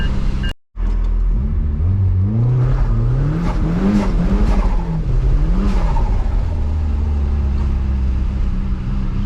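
A turbocharged Mazda Miata with its top down revs hard on snowy roads at night, its close, loud engine note climbing and falling in repeated surges with a steady low rumble underneath.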